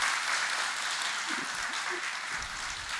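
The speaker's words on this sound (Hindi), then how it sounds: "जोरदार तालियां सर के लिए।" An audience claps steadily and loudly for a doctor, a dense sustained wash of applause from a crowd that continues without a break from start to end.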